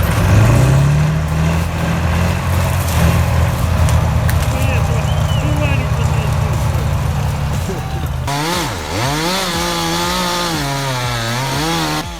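Kirovets K701 tractor engine roaring under heavy load while pulling a stubborn tree out of an abandoned field, loud and continuous, with the pitch surging and wavering in the later seconds.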